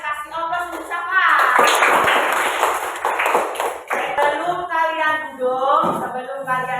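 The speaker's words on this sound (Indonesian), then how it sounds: "kasih aplaus untuk Safa" An audience in an Indonesian classroom claps for a student after the national pledge. The applause is a burst of dense hand claps that swells and fades, with a voice speaking before and after it.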